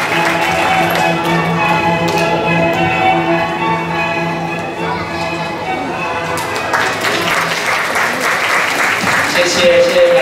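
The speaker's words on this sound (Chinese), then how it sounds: "请家长献上你们祝福的掌声，恭喜他们。" Parents in the audience applaud as certificates are presented at a school graduation ceremony, with music underneath. The clapping is moderate at first, then swells into a denser, louder ovation toward the end.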